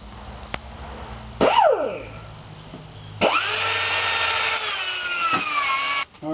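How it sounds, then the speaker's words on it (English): Air-powered cutoff tool grinding through a weld on a John Deere loader cylinder of DOM tubing, loud and close: a short burst of cutting, a pause, then a long sustained whine of the wheel biting metal before it stops. "So I'm going to use the air-powered cutoff tool."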